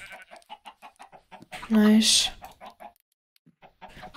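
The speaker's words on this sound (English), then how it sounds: "Oh my god, we have too many chickens." Chicken clucks from a farming video game, a short loud burst of fowl noise in the middle while someone talks before and after.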